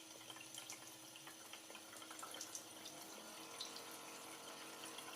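A liquid pump runs steadily, pushing water between compartments in a greenhouse-effect demonstration model, producing a continuous faint gurgling and trickling wash with no talk.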